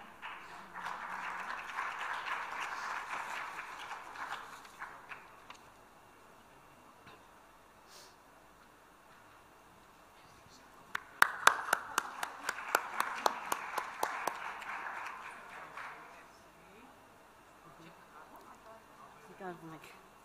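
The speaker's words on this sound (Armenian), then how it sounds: "Ծափահարություններ մեր մրցանակակիրներին" Audience applause for award winners at a ceremony: a stretch of steady clapping, then a quieter pause with faint sounds, then a second burst of sharper, louder claps that fades out.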